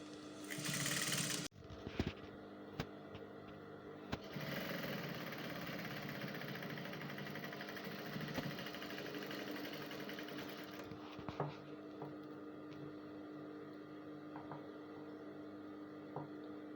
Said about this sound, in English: So now I'm going to go ahead and sew.